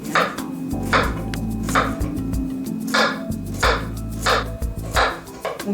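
A knife chops through firm sweet potato on a board in a series of crisp, evenly spaced cuts, close up, with a low hum underneath.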